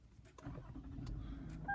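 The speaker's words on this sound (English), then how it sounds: "To start the vehicle, put your foot on the brake and hit the engine start stop switch." A Toyota Avalon starts by push button: a short crank catches into a low, steady idle, quiet and close, with a couple of faint clicks just before.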